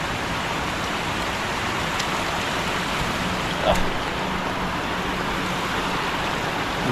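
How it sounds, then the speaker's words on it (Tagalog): Heavy rain pours steadily by an old dam, a dense even hiss of drops that holds for the whole stretch, with one brief knock partway through. "Grabing patak ng ulan yan."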